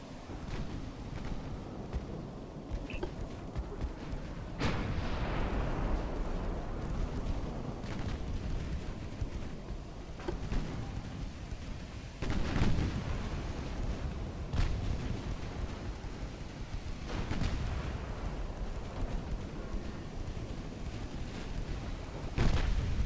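Heavy naval gunfire from cruisers pounding a destroyer in the warship battle game Ultimate Admiral: Dreadnoughts, with repeated deep booming salvos at irregular intervals over a continuous low rumble of battle.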